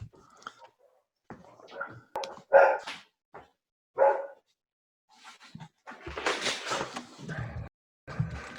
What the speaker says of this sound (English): I'll close my door real quick so the dogs don't.